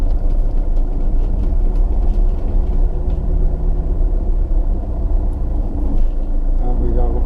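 A car engine rumbles steadily from inside the vehicle as it drives into a car park near Widemouth Bay, a constant low drone with voices talking over it.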